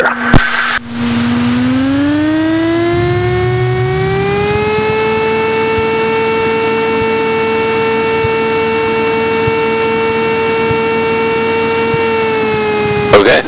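A Cessna 172 engine runs up to full power on the takeoff roll in a crosswind, with a steady droning tone that climbs in pitch during the first few seconds and then holds loud and even. No speech is heard.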